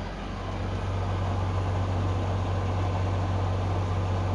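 The external unit of a 12V air conditioner for an RV camper runs under the floor, giving a constant low droning hum with an even mechanical hiss throughout.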